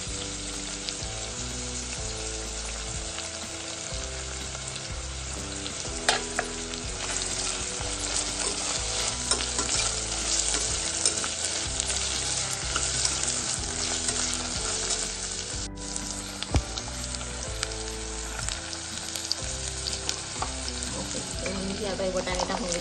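Cauliflower and vegetables for veg pulao stir-frying in a pan, with a loud sizzle and scraping stirs, heard under steady background music.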